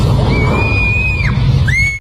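A high, drawn-out scream in a horror film about a jinn, loud and alone over a dense rumbling background, rising into a long sustained cry, falling away, then a short second cry that cuts off abruptly.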